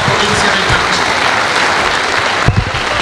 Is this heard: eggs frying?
no